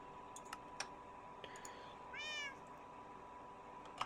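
A cat in the Minecraft video game gives a single short meow, clear but quiet, over faint keyboard typing and mouse clicks scattered through the rest.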